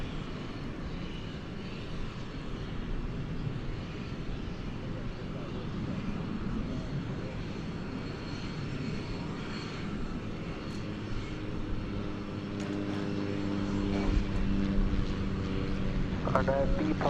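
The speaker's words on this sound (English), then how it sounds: "We've got another little bitty cargo jet, a cargo plane coming in." A small Martinair cargo jet comes in to land at DFW Airport at night, its steady distant engine roar slowly swelling louder toward the end.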